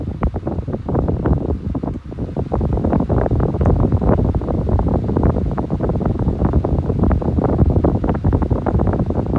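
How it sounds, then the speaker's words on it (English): A 40-watt SMC 12-inch electric desk fan runs on medium speed, giving a steady, loud broadband whoosh of moving air that stays even and unbroken throughout, with no talking. "I think this is a 40-watt motor, 12-inch desk fan."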